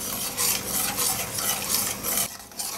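A plastic spoon stirs starter culture into milk, giving soft repeated swishing strokes in a quick, even rhythm that pause briefly near the end, close and quiet with no talk.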